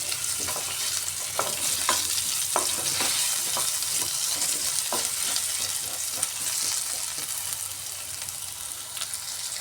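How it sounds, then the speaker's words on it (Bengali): Potatoes sizzling in hot oil in a pan while being stirred, a loud continuous frying hiss with regular scraping strokes of the spatula, close up and without talk. "এভাবে আলুগুলাকে একটু নাড়িয়ে লাল লাল করে ভাজতে হবে"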